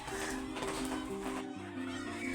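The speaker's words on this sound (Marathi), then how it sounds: "आता ह्या कोंबड्या इतक्या छान उडतात ना ते यांना बाहेर जायची घाई झालेली असते" Chickens in a poultry shed cluck and call in a dense, continuous flock chorus, close and fairly loud, with someone speaking over the birds.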